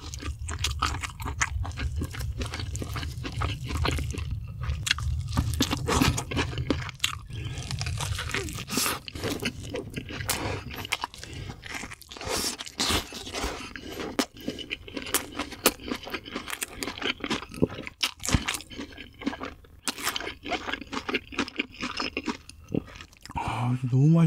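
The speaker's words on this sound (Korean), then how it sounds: "이 안에 들어있는 버섯이 진짜 맛있어요." Crunchy, wet chewing of a mushroom hamburger, recorded close to the mouth with dense, rapid bites and crackles running throughout. Quiet mouth noises fill the gaps between chews.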